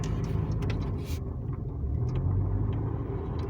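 A car engine revs under acceleration with a steady low rumble and throaty vroom, swelling slightly as throttle is applied, heard close with no talking.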